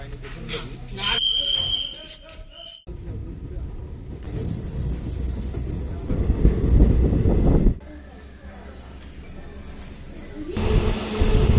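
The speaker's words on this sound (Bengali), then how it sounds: "চলো আবার ট্রেনে উঠে যাই" Steady rumbling of a crowded moving Lalgola train bound for Sealdah station fills the space, rising and falling in loudness, with people talking nearby.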